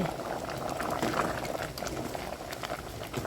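A pot of Isan-style bamboo shoot curry boils hard, a dense, steady, close bubbling and gurgling that holds throughout without pause.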